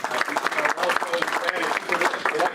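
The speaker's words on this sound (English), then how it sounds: "Let's have a nice round of applause for these people" A small Rotary club gathering gives a short round of applause, many hands clapping densely and steadily for a couple of seconds at moderate loudness, with some voices mixed in.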